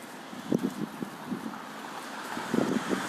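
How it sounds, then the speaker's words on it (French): Outdoor wind buffeting the microphone with a steady rushing roar, plus faint bumps and low murmurs in the background. "Ah, c'est du vent."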